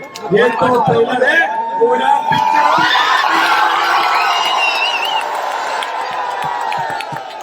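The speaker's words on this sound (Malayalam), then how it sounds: "സന്ദീപിന്റെ ഈ ഓരോ വാക്കുകൾക്കും നിറഞ്ഞ കയ്യടിയാണ് യു ഡി വൈ എഫ് പ്രവർത്തകരുടെ ഭാഗത്തുനിന്നും ഉണ്ടാവുന്നത്" Crowd of UDF party workers at a political rally in Kerala cheering and shouting, a dense, loud and sustained roar of voices with whoops that swells after a few seconds and holds steady throughout.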